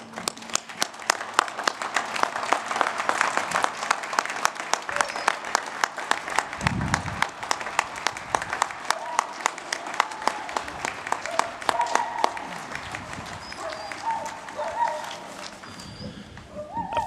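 An audience at a memorial service for a firefighter service K-9 claps in sustained, fairly loud applause that carries on throughout, with some murmuring and movement beneath it.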